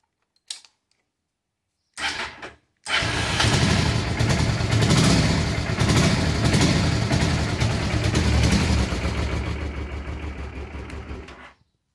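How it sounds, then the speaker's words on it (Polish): A Honda Transalp motorcycle engine with a faulty ignition module, idling unevenly on one cylinder after a brief start attempt, a steady close mechanical chug that fades out near the end. "trampek chodzi na jeden cylinder"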